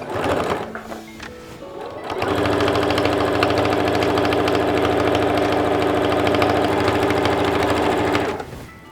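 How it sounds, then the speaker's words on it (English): A sewing machine topstitches along the fold of dungaree straps about 2 mm from the edge: after a brief pause it runs at a steady, loud, even hum and rapid stitching clatter for several seconds, then stops. "top stitch all the way along where the fold is"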